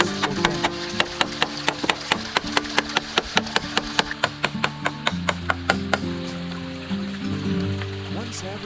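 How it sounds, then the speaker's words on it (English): A hammer drives nails into a log over a wooden panel and frame at an off-grid forest cabin, with about twenty sharp, evenly spaced strikes ringing close, then the blows stop and a softer rubbing noise follows. "he nails the log securely onto the panel and frame"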